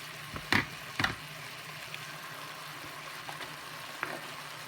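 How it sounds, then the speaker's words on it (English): Ground beef cooking in a pan, a low steady sizzle broken by a couple of louder knocks and scrapes early on, then quieter occasional clatters; nobody speaks. "And then you cook this until your meat is done."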